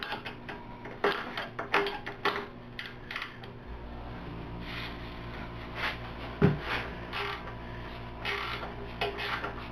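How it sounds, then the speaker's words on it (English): A ratcheting wrench backs a nut off a shoulder bolt that holds a linear actuator to a table, giving a run of close, quick clicking ticks with a few sharper metallic knocks. "we're going to remove the nut from this shoulder bolt"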